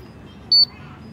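An O2 and CO2 meter alarm gives one short, sharp, loud beep close by over quiet room noise.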